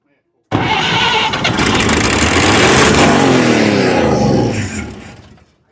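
A 1952 GMC truck engine, unrun for 50 years, cranks and catches, then roars loud and rough at close range for several seconds before cutting off abruptly.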